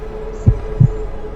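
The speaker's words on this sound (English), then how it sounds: "I thought that was my heartbeat in my ear" Two close, heavy heartbeat thumps, deep and muffled, with a low steady hum beneath them and no talking.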